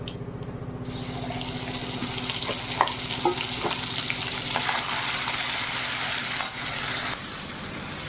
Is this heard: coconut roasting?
yes